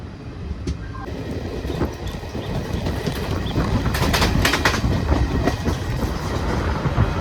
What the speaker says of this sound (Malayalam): യെസ്, മലബാർ എക്സ്പ്രസ് തന്നെയാട്ടോ ഇത്.